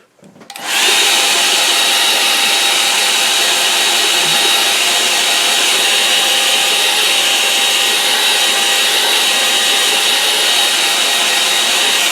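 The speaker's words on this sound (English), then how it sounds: "now I'm going to dry that off" A hair dryer blows steadily and loudly over a wet watercolour painting of an autumn wood, a constant close whooshing roar that starts abruptly and holds without a break.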